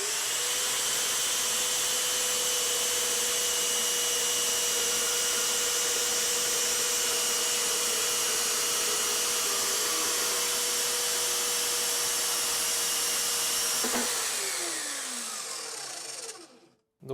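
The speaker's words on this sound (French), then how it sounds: "On va maintenant passer à la découpe de notre tube rectangle, donc 40, 20 et 2 mm d'épaisseur." A Parkside PMB 1100 B2 metal band saw cuts 40 x 20 mm rectangular steel tube with 2 mm walls, a loud, steady whirring whine that holds for many seconds, shifts as the cut finishes, then winds down and stops.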